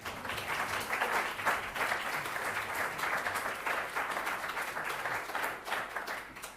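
Dense, steady applause fills the lecture hall at an École Normale Supérieure de Lyon event, many hands clapping together at an even level for several seconds with no speech over it.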